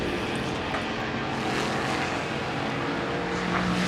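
A racing car's engine roars steadily nearby at the Goodwood Revival, a dense loud drone with slight rises in pitch as it passes.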